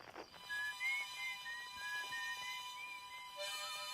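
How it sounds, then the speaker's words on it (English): Thin, eerie whistling tones drift from a dark bramble seed in Outer Wilds, a series of soft sustained pitched notes over a faint hum, quiet and distant-sounding. "I can hear the whistling too"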